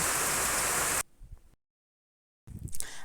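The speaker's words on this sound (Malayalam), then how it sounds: "പുറത്ത് നല്ല മഴ ഉണ്ട് കേട്ടോ" Heavy rain falls outside beyond a kitchen window, a loud dense hiss for about a second that cuts off into quiet and then silence.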